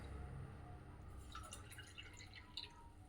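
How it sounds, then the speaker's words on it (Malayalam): A glass of water is poured over semolina to soak it: soft, faint trickling and a few light drips, heard quietly and alone without talk. "ഒരു ഗ്ലാസ് വെള്ളം ഒഴിച്ച്"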